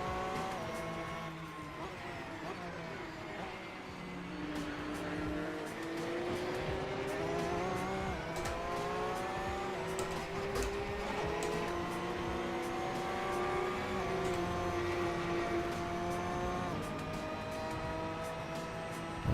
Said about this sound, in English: the sound of the naturally aspirated motors different than anything else and instantly recognizable